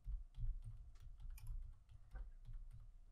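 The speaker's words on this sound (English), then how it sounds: "So let me type my username," A username is typed on a computer keyboard: a quick, uneven run of soft, close key clicks, heard alone and fairly faint.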